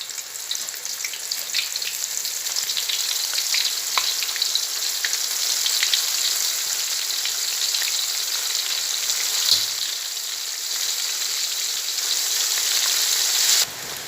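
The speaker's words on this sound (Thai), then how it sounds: "โดยใช้ น้ำมันร้อนกลางๆนะครับ ลงไปทอดเลยนะครับ" Pork pieces deep-frying in medium-hot oil, a close, steady crackling sizzle with bright spattering pops that carries on unbroken throughout.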